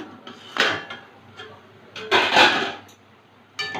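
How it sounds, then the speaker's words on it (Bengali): A metal lid lifted off a cooking pot of moong dal and ash gourd, with a few short clattering scrapes and clinks spaced across a few seconds, close and fairly loud in a quiet kitchen. "দশ মিনিট পরে ঢাকনাটা তুলে নিচ্ছি"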